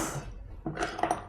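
Pepper and garlic cloves stirred in half a glass of lukewarm water, giving short clinking and scraping strokes of a spoon against glass, close and fairly quiet, with brief bright taps near the end.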